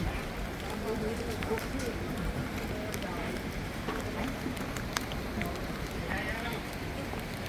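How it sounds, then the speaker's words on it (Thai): Steady rain falling at a railway junction station, a continuous broad hiss of drops with faint, indistinct voices somewhere in the background. "ฝนตกครับ"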